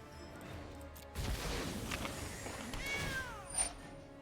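A cartoon kitten meows from the Cauldron Kitten card in the Magic Arena digital card game, a bright clear mewing cry over a soft game-effect whoosh, with no talking.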